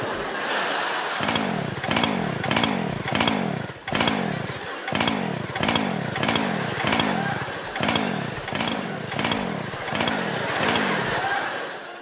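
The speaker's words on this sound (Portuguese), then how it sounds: "Mas a serra que não queria ligar aumentou ainda mais a tensão no auditório" A chainsaw is repeatedly pull-started on stage in an auditorium, each tug giving a short sputtering engine burst in a steady rhythm of about a dozen attempts without catching, loud and close.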